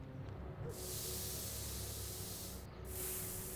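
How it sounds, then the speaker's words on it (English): Paint spraying onto a ramp in Back to the Future: The Game: two bursts of loud aerosol hiss, a long one of about two seconds and a shorter one after a brief pause, over quiet background. "Let's spray the ramp."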